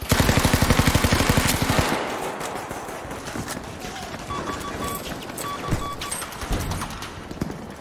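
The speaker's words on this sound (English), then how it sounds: "you fire the Browning in some of these tunnels and it reverberates" A Browning machine gun fires a rapid, loud burst in underground tunnels during Battlefield V, then echoes and scattered further shots and game sounds follow, with voices chatting underneath.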